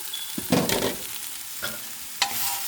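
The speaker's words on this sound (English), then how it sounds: "Just give it a little mix." Hyacinth beans being stirred in a pan of stir fry, a few scraping strokes over a low steady sizzle, with one louder burst near the start and two shorter ones later.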